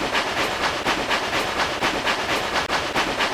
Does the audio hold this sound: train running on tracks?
yes